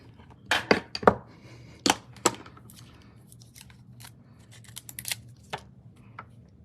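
Scissors snip out a paper card piece, giving a series of crisp, close clicks and slicing snips, some in quick pairs and others spaced apart, against a quiet room with no talking.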